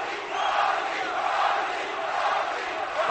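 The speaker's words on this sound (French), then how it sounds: "la foule qui était bien calme depuis tantôt, là, se manifeste un petit peu" Boxing arena crowd stirring late in the seventh round, a dense rising roar of cheers and shouts that stays loud and sustained for the whole stretch.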